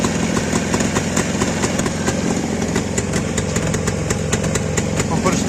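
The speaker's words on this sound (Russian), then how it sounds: "Заводим на нашем карбюраторе." A carburetor-fed engine offered for sale starts and runs, a loud, close, steady idle with a rapid even pulse, while someone talks over it.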